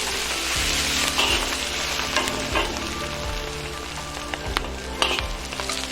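Carrots and bamboo shoots stir-fried in a wok, a loud continuous sizzle close up with rhythmic scraping and tossing strokes of the spatula repeating every second or so, no voices.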